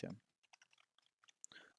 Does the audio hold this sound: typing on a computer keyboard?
yes